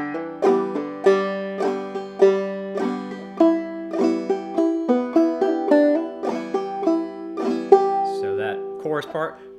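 Clawhammer banjo plays a passage, bright plucked notes and brush-thumb strums in a bouncy rolling rhythm, close and clear, ending with a short spoken bit.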